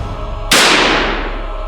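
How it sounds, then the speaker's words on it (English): One loud, sharp gunshot cracks out over a steady background hum, its blast fading into a long, gradually decaying tail through the forest. "A loud gunshot rang out through the forest"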